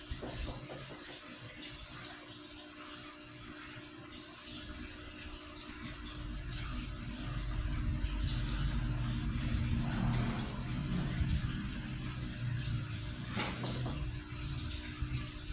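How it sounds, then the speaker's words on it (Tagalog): Continuous soft splashing and trickling of water from a small paludarium waterfall, a steady faint flow with a slight swell midway, no voices. "So, ayan na po. Ayan ating waterfalls. Gumagana po siya."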